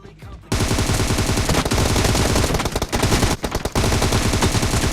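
Loud, continuous automatic gunfire in a mobile team deathmatch shooter game, rapid bursts with short pauses, starting after a brief quiet moment and filling nearly the whole stretch.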